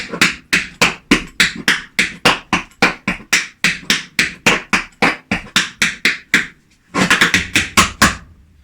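Tap shoes strike a hard floor in a crisp, evenly paced run of step, scuff and heel sounds, about two dozen sharp close taps, a short pause, then a faster cluster.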